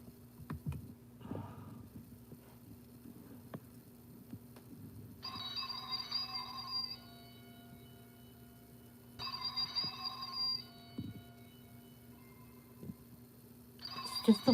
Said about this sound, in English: It's just the phone ringing.